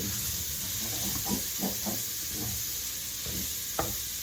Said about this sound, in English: I'm going to give this a few more minutes to go ahead and get my sausage a little bit more browner